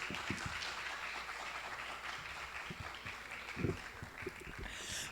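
An audience applauds at a literary panel, a steady wash of clapping with a few sharper claps standing out, heard at a moderate distance.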